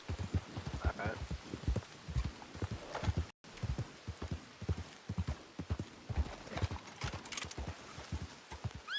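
Horse hooves clip-clop in a steady, close riding rhythm in Red Dead Online, a brief dropout near the middle, with someone talking over the gait.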